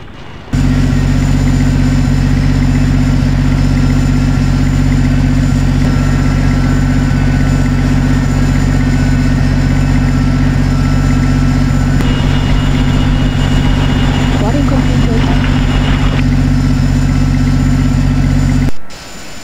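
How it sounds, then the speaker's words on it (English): Boeing 737 engines spooling up in the iFLY flight simulator game, a steady loud low hum and whine running continuously for the whole stretch, with a brief added rise of higher tone midway. "Ready for engine start."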